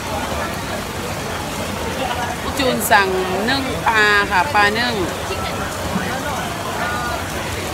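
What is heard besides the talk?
heavy rain falling at an outdoor street-food dinner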